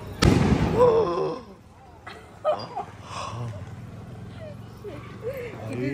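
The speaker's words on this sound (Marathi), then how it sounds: "जोरात फटाका फोडला. बापरे. लक्ष्मी बॉम्ब फोडला डायरेक्ट." A Laxmi bomb firecracker bursts once with a loud, sharp bang at the start during Diwali celebrations, followed by people talking excitedly and a dog whimpering and barking nearby.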